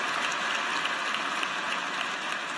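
The crowd at Auburn University's 2018 spring graduation ceremony applauds faculty, a steady wash of many hands clapping at moderate volume throughout, with no voices.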